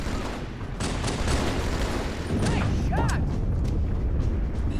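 Battle rifle in Halo 2 firing three-round bursts amid dense, continuous combat noise, sharp repeated shots layered over a busy game soundscape.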